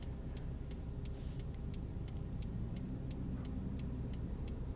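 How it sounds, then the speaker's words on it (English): Cars pass on the road from Jewett City to Lisbon, Connecticut, heard from a car waiting at a red light. A faint, steady traffic rumble sits under a regular clicking tick. "we'll just watch the cars drive by"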